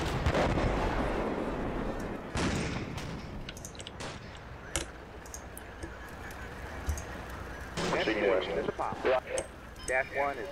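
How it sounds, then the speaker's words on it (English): Cannon and artillery fire booms in the Combat Mission Black Sea video game, with heavy, loud blasts and rumbling reverberation, followed by some honking and squawking sounds near the end. "Taking cannon fire."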